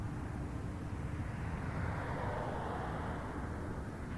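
Jazz RJ 900 airplane at Toronto Pearson Airport, a steady broad jet engine roar heard from a distance, swelling slightly in the middle and holding throughout.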